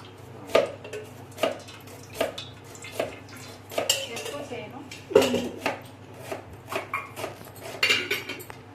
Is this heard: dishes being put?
yes